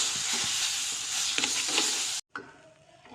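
Raw mango pulp and sugar are stirred in a pan, giving a steady, close wet scraping and swishing that runs for about two seconds, breaks off briefly, then resumes more softly.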